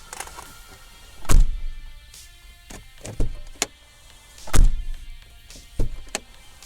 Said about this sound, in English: For a door to shut like this on a 35-year-old Super Mini is phenomenal.